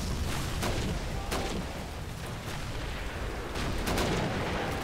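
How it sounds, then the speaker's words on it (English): Gunfire in the World War II shooter Call of Duty: United Offensive, a dense continuous roar of battle noise with scattered distant shots and booms under the constant din. "What are you guys shooting at?"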